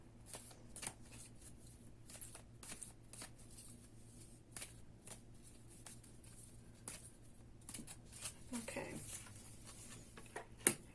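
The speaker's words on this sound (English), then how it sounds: "we will pull an Angels of Abundance card as well" Tarot and angel oracle cards shuffled and drawn, a string of soft close riffles and card taps at a quiet level, with no voices over them.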